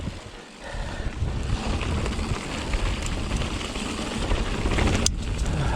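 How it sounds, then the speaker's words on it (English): Wind rushing against a microphone while moving at speed outdoors, a constant loud buffeting roar with no speech. "Bit of wind there, just pushing back on me."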